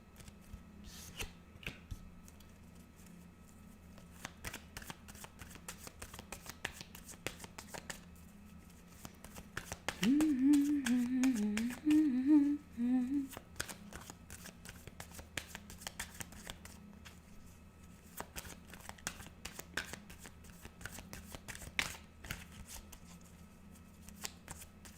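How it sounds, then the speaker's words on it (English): Tarot cards being shuffled by hand, soft rapid riffling and flicking that repeat through the span, quiet and close, with a denser burst of shuffling near the middle. "Let's do a general reading. Cards flying out already."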